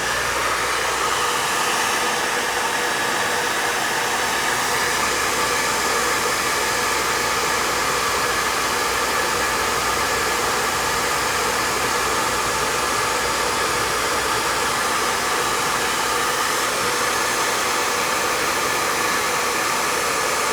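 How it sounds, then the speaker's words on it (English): Hair dryer blowing steadily and loudly at close range while a screen protector is bonded to a Samsung Galaxy S22 Ultra, a continuous broadband whoosh with no talk. "all I'm going to do is I'm going to blow the hairdryer down"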